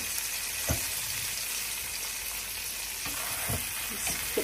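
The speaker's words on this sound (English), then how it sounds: "this is the moment where we add some butter and some garlic" Steak fries in a pan with butter and garlic over gas heat turned down a little, giving a steady, close sizzling hiss with occasional soft knocks and shifts in the pan.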